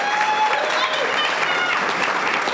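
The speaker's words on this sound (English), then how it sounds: "Big round of applause for Commissioner Shea" Audience at an Age Strong LGBTQ+ Pride luncheon breaks into steady, loud applause, a dense wash of clapping sustained throughout with no break.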